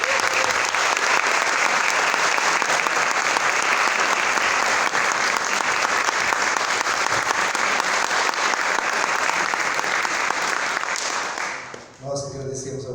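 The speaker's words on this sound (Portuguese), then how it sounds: "queria encerrar com uma calorosa salva de palmas para os nossos convidados" Loud, sustained applause from a crowd, clapping steadily for about twelve seconds before fading out as a voice begins speaking.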